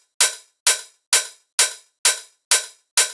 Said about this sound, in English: we added another layer of a little bit more open hat